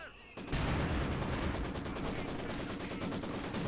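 Sustained machine gun fire from an MG in Company of Heroes 2 as Grenadiers push forward: a rapid, continuous stream of loud rattling shots that starts abruptly and runs without pause.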